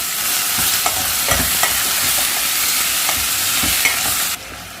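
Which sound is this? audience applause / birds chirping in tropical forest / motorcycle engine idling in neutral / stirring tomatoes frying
stirring tomatoes frying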